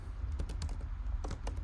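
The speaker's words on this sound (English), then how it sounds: "So let's type expose" Close, crisp keystrokes on a computer keyboard, about a dozen quick clicks in an uneven rhythm over a low steady hum.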